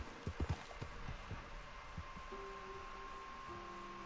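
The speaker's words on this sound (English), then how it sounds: "There is a horse standing there." Hooves of a horse in Red Dead Redemption 2 clop a few times near the start, then fade into steady ambient game sound with faint tones, no talk.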